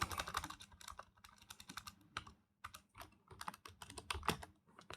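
Fast, steady typing on a computer keyboard, heard up close as dense bursts of clicking keys with brief pauses, with no talk over it.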